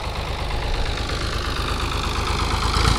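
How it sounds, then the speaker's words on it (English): A tractor crosses the seabed toward Chale Island off Diani Beach, its engine a steady low idling rumble with faint knocking, close and continuous throughout with no talk. "And looks like a tractor going across at the moment."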